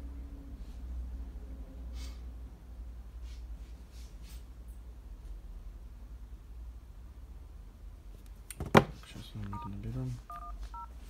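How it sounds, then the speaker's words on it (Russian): A phone number is dialed on a mobile phone with keypad tones: a quiet stretch of faint handling noise, then a quick run of short, distinct beeps near the end. "Сейчас мы его наберем."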